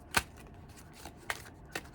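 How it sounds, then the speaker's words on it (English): An overhand shuffle of a deck of playing cards, a few crisp separate slaps and flicks spaced unevenly over a quiet background, close and fairly soft. "Our old friend, the overhand shuffle."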